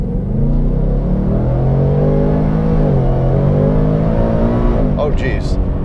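A Roush supercharged 700 hp Mustang GT rumbles loudly as it accelerates on a road with traction control off, the engine note climbing steadily and staying close to the listener throughout.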